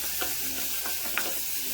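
Spice powders, including ground fennel seed, are stirred in a hot pan for a samosa filling, producing a dense, even sizzle with a couple of soft scraping strokes.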